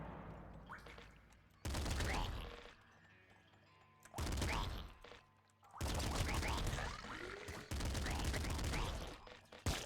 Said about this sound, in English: I shouldn't take the triple machine gun